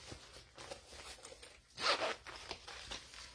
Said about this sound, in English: So open your zippers.